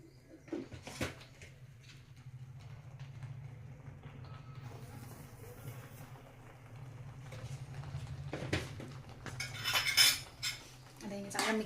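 Sugar being stirred into sweet semolina sheera in a pan, with a steady scraping of a spoon against the metal pan and a few sharper clinks of utensil on pan near the end.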